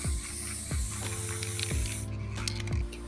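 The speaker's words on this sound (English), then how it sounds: "I'm doing a thin layer of nice gray spray paint" Steady close-up hiss of an aerosol can of gray spray paint, sprayed continuously in short bursts with faint handling clicks.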